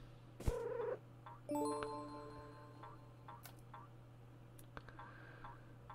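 A cat in the video game Road Not Taken gives a short meow, then a longer wavering one, over a steady low hum, with faint clicks and ticks scattered afterward.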